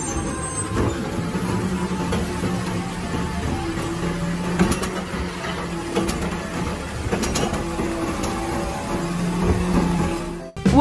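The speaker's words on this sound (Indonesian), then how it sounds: "Lihat teman-teman, ini truk sampah." A toy garbage truck plays its electronic sound effect, a steady synthetic truck drone with repeating tonal beeps and hissing brake-like bursts, heard close up for several seconds.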